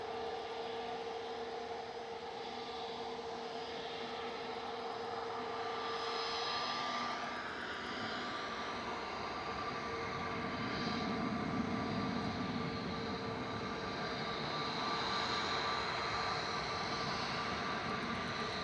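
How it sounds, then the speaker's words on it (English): A Jet2 Boeing 737-800 jet airliner at Manchester Airport produces a steady, distant engine roar that swells and broadens midway through and stays loud to the end. "Jet 2 to Dalaman, 737800 GDFD,"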